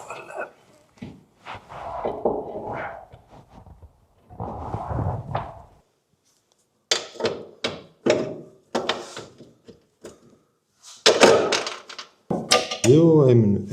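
An Opel shock absorber is fitted into the rear suspension of a Volvo 740, with repeated close metallic thunks and knocks, then louder clanking and scraping near the end, while someone talks in between.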